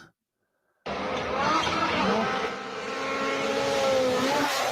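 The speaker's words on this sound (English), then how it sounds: "These rally cars get so much air." A rally car engine roars in loudly after a moment of silence, revving hard and sustained as the car races past close by.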